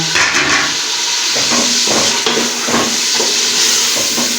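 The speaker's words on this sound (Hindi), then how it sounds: "कीमे को अच्छी तरह से बीच में मिक्स करते हैं" Minced meat with peas is stirred and fried in a pan, a loud, close sizzling hiss broken by repeated scraping strokes of a spoon, with no talking.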